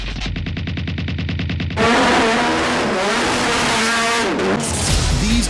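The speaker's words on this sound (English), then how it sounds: "These are the fastest GT cars in the world" Japanese GT race cars roar past, a rapid pulsing engine note giving way to a louder burst of several engines climbing and shifting together, with pitch dips as they brake and accelerate, close and loud.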